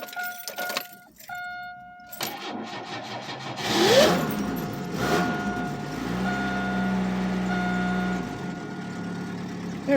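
An old purple car's engine is cranked by its starter, catches and settles into a steady, close idle, with jangling keys and rattles heard before it fires.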